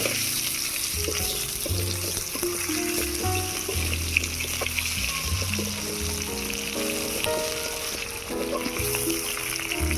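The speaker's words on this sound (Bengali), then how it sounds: "এবারে দিয়ে দিচ্ছি ধুয়ে রাখা আলু" Continuous hot-oil sizzle of washed potatoes frying in a pan, loud and steady, with a few utensil scrapes and a slight watery crackle.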